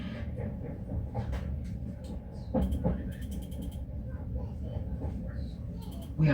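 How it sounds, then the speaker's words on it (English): Greater Anglia train travelling toward Norwich, a low continuous rumble of the carriage with occasional rattles and clicks, heard from inside, fairly quiet and steady. "We are now approaching Norwich, where this train terminates."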